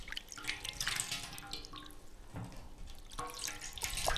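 Water in a church baptismal font trickles and drips in a quiet run of small splashes and droplets, close and soft, with no voices.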